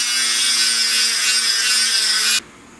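A drill bit grinding through hard ostrich egg shell, a loud continuous high-pitched whine and scrape that holds steady for a couple of seconds, then stops abruptly.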